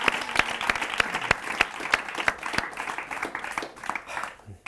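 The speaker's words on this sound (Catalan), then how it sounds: "Un fort aplaudiment" A studio audience on a Catalan television quiz show applauds loudly, a dense burst of clapping with sharp individual claps that tapers off near the end.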